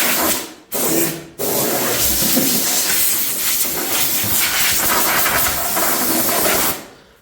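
Compressed air blasts through the louvers of an Atom I-180 welding machine, a loud steady hiss that runs almost unbroken for several seconds after two short opening bursts, then tails off.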